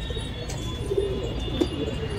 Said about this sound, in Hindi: देखिए ऊपर से भी तो आ रहे हैं कबूतर।